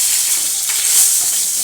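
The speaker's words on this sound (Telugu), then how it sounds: "ఎండుమిరపకాయలు వేసానండి, కల్లెమాకు కూడా వేసానండి." Mustard seeds, dried red chillies and curry leaves sizzling in hot oil for a tempering poured over chutney, a loud close steady hiss with faint crackles and no talking.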